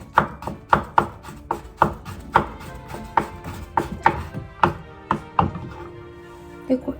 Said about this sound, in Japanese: 柚子の皮をちょっとここ刻んで